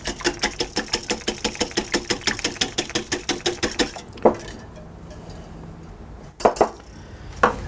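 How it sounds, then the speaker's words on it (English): Egg and salt whisked in a small bowl, a fast, steady run of light metallic clinks from the whisk against the bowl for about four seconds, then a few separate taps and knocks in a quiet kitchen. "then just use a whisk to break this up."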